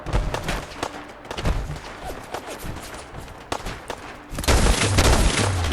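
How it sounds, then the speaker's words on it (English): Tesla rifle fire in Fallout 4 during a raider fight at Abernathy Farm: a string of sharp crackling zaps at uneven intervals, then a loud, sustained buzzing electric arc near the end, close and with no voices. "I'll put this Tesla rifle to use"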